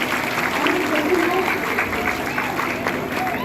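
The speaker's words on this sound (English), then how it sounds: "I want first give them a huge round of applause" Audience applause at a campus gathering, a dense steady clapping crowd filling the whole span, loud and close with murmuring voices mixed in.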